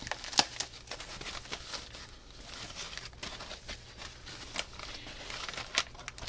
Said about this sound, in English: Let me unwrap it.